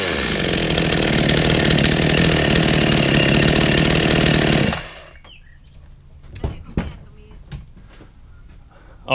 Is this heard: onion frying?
no